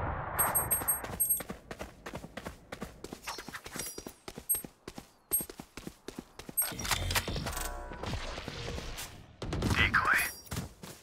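Clipped bursts of weapon fire in the Valorant shooter game, sharp close shots in quick rhythmic volleys with pauses, mixed with footsteps and game effects.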